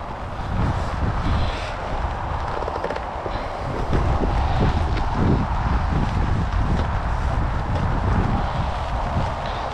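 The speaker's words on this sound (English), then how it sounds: "It's quite windy today" Wind at a fishery, gusting steadily as a loud broadband rush and buffeting against the microphone for the whole stretch, with no talk.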